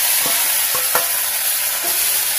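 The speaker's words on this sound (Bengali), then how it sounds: "একটু ভালো করে ভেজে নেব" Loud, close sizzling of prawns frying in a pan, broken by a few distinct scraping stirs of a spatula.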